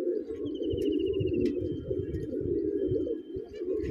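Pigeons cooing nearby in a steady low warbling drone, with a thin high squeak and a faint click or flutter in between, no voices.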